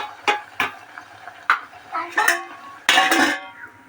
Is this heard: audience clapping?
no